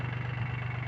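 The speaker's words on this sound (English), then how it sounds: "I'm gonna go off with the tractor, which you hear popping away there" Tractor engine idling and popping steadily in the rain, a low, even, continuous throb with a faint regular pulse, close by and alone.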